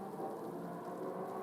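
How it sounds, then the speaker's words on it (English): Rain falls during a race in the video game Gran Turismo 7, a soft, steady patter and hiss with a low rumbling undertone at an even level, with no voices. "Oh, hey, we got rain"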